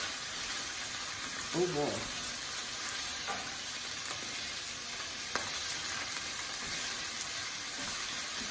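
Onion and garlic frying in hot oil for a Tunisian tagine, a steady broadband sizzle running the whole time with a brief clatter early on and a voice speaking over it.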